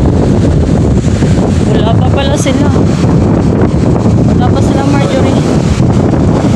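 Strong wind during heavy rain at a seaside spot with big waves, roaring loudly and continuously against the microphone while a person talks throughout.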